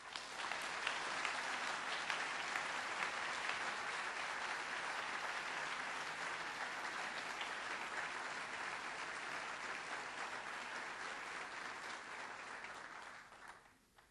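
Sustained applause from a lecture-hall audience welcoming Bishop John Shelby Spong, dense steady clapping across the whole stretch that fades out at the very end.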